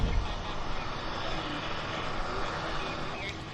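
An Alaska Airlines airliner at Vancouver Airport, its engine noise a steady, moderate rumble heard close by through a short stretch, mixed with some background voice activity.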